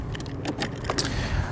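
A key slides into the ignition of a 2018 Honda PCX 125 scooter, giving a few close, light metallic clicks and jingles from the key ring over a low background hum, with no one talking.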